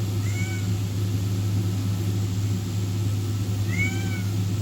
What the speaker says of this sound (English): And I got my cat meowing in the background.